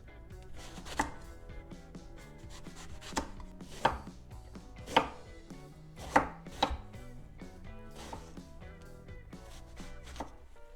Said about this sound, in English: We start with chopping the eggplant.